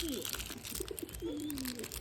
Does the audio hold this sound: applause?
no